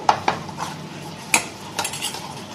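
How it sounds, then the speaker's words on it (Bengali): Spoon stirring mustard spice paste in a bowl for duck egg bhapa, a few light scraping clinks spaced out over a couple of seconds, close and fairly quiet. "মেশাতে হবে সব কিছুই"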